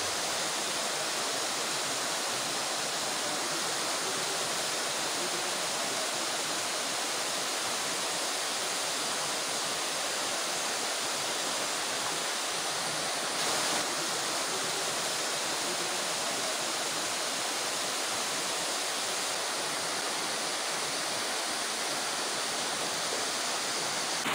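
A waterfall at Pine Hills, Makhniyal near Pir Sohawa, pouring as a dense, unbroken hiss-like roar of falling water that stays loud and even throughout, with no voices.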